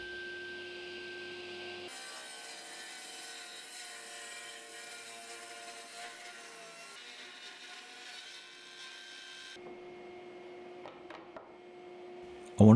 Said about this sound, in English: I'm going to do it on the table saw. Doing it this way just takes a bit longer, and I have to make several passes going from either side